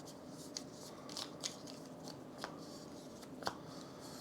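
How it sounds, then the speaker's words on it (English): Starting tiles for the Covenant board game are shuffled by hand, making a faint, steady rustle close by. Small scattered clicks and clacks rise out of it every so often. "We'll shuffle up our starting tiles."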